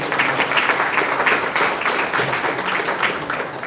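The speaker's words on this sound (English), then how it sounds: "Please, round of applause for Prof." Audience applause at a World Family Medicine Day commemoration, a steady dense patter of many hands clapping, moderately loud and sustained throughout without a break.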